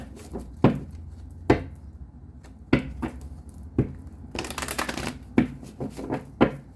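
Tarot cards are shuffled and tapped in separate sharp snaps and flutters, with one longer riffle in the middle, close and fairly quiet.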